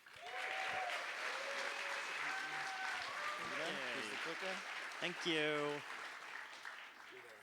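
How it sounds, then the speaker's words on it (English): Audience applause at a 2019 Ethereum hackathon opening ceremony as a speaker is welcomed to the stage, steady sustained clapping with a voice speaking and a brief thank-you over it. "please give a round of applause and welcome to the stage"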